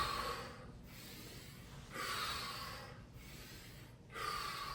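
Deep inhale before a squat lift, a series of breaths drawn and released at a steady pace, close and fairly quiet, with no talking.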